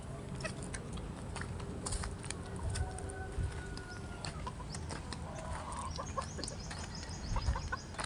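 Rooster clucks from a gamecock kept for cockfighting, several short calls scattered over steady outdoor background noise, moderately near.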